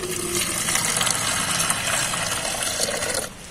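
Water pouring into water containers set out for cobras, a continuous splashing gush up close that cuts off near the end, with no talking.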